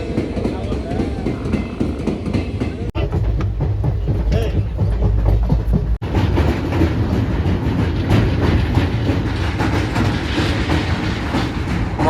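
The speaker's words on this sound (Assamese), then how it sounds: "মই ফাৰ্ষ্ট টাইম এনেকৈ পাহাৰৰ মাজত ট্ৰেইন জাৰ্ণি লৈছোঁ" A train on the hill route to Dima Hasao rolls through tunnels with a loud, continuous rumble and rhythmic wheel clatter. The sound briefly drops out twice, and voices murmur faintly underneath.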